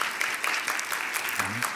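Applause from a church congregation at a Sunday service, after a kindergarten Sunday-school graduation certificate is presented; a dense, steady wash of hands clapping fills the short stretch, with a faint voice rising near the end.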